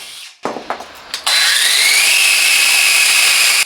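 A few short scraping bursts, then a Parkside 20V cordless wood cutter (PAGHS 20 LI B2) whines steadily and loudly through wood for a couple of seconds, close up.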